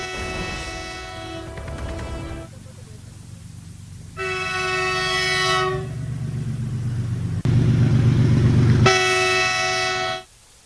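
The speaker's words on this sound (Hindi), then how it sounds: "पीछे से ट्रेन गुजर रही है" A passing train behind a railway platform sounds its horn in several long, loud sustained blasts separated by short gaps, over a continuous low rumble of the wheels and cars rolling by.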